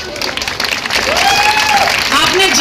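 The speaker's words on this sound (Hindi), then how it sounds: "तो इनके लिए जोरदार तालियां एक बार and a warm welcome" A live audience at a film promotion event claps loudly to welcome a guest actress onto the stage, the applause swelling beneath an announcer's amplified voice and a whoop of cheering.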